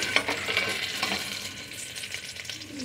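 Onions fry in a pan until light golden, with a close, steady sizzle and a few soft stirring scrapes, fading slightly toward the end. No one speaks.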